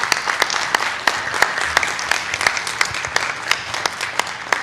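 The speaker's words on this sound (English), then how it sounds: "They all deserve a round of applause for all the work they do with these kids, too." An audience at a school board meeting applauds staff who work with the kids, a moderate crowd clapping with several sharp individual claps standing out near the listener across the whole stretch.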